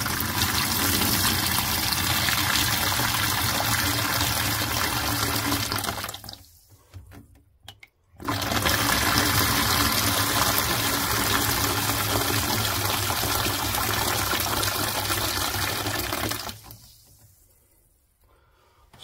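Water runs steadily out of the drain valve on a Fernox TF1 heating system filter, a loud continuous splashing gush that stops briefly midway, resumes, then cuts off near the end.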